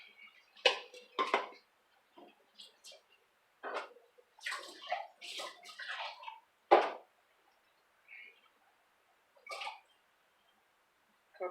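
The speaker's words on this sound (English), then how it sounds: "Stirring all that goodness, coconut milk, powder, salt, cornmeal." A spoon scrapes and knocks inside a pot while coconut milk, powder, salt and cornmeal are stirred, in scattered short clinks and scrapes with quiet gaps between them.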